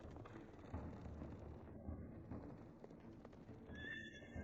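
A horse carrying a rider neighs and its hooves clip-clop, fairly faint against a background rumble, with a brief whinny near the end.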